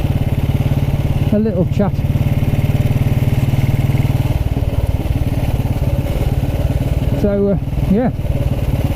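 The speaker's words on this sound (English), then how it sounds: "a lovely ride on my 1929 Ariel" 1929 Ariel motorcycle engine running steadily, a close loud throbbing thump that persists throughout, with someone speaking briefly over it.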